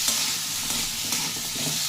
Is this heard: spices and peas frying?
yes